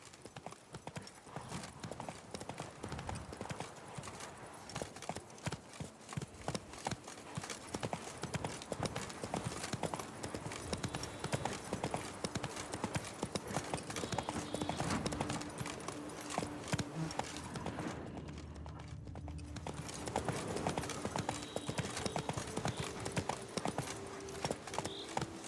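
Geralt's horse Roach galloping in The Witcher 3, steady rapid hoofbeats pounding throughout with a brief gap near the end, over faint game ambience.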